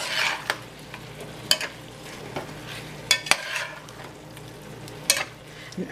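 Chicken pot pie filling stirred in a pan, with intermittent scraping clicks of the utensil against the pan over a soft, steady background hum, close and fairly quiet, no voices.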